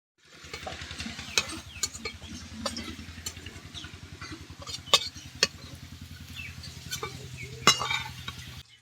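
Potatoes frying in oil in a wok for a Bengali vegetarian cabbage dish, with a soft sizzle under repeated spatula scrapes and clinks against the pan, some louder knocks standing out.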